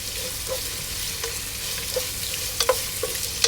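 Green chilies fry in a pot for a one-pot chicken dum biryani, giving a continuous hiss of sizzling oil with scattered light clicks and taps from stirring. No one speaks.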